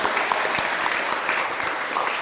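Steady applause from a seated audience at a spiritual talk in Bali, a dense, even wash of clapping that runs the whole stretch without a break.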